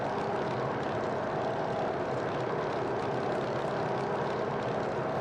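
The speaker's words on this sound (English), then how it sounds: "So it's a nice sounding airplane." The engine and spinning propeller of a Grumman F3F model airplane drone steadily and loudly in flight, a constant broadband roar with no pauses and no voices.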